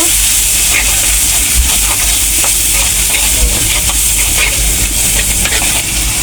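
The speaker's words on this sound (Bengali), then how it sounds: "আধা চামচ হলুদের গুঁড়ো আধা চামচ জিরার গুঁড়ো ভালো করে মশলাটা কষায় নিব" Turmeric and cumin masala sizzles and hisses loudly and steadily in a pan as it is fried for a crab dish, with light stirring and no talk.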